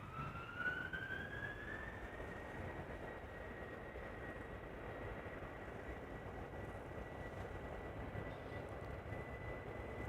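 A Finnair Airbus A330-300 departs Amsterdam Schiphol, its engines making a steady, distant broadband roar with a high whine that climbs and then holds, fairly faint throughout.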